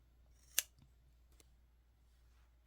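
Scissors make one crisp, close snip through the yarn tail of a crochet muffler, isolated in a quiet room with a few faint handling rustles afterward.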